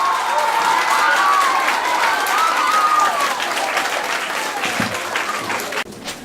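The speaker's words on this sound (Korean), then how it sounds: "뜨거운 박수로 감사히 하겠습니다." Warm applause from a student audience at a girls' high school guest lecture fills the hall, dense and steady with a few cheers, then thins and drops off near the end.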